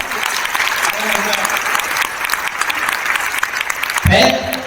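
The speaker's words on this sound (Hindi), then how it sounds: "एक बार पूरा सदन तालियां बजाए" A large audience at a poetry festival on the Kannauj Mahotsav stage claps in a dense, steady burst of applause, loud and sustained throughout, with a heavier thump of crowd noise near the end.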